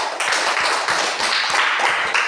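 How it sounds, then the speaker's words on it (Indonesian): Classmates clap for a student in an Indonesian classroom, giving a steady, dense burst of applause close up that runs evenly throughout without talk. "Coba tepuk tangan untuk Kamsia."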